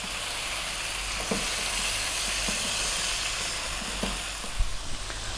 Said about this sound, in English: We're gonna cook this again for another 4 minutes. Above medium heat. Stirring it fairly often.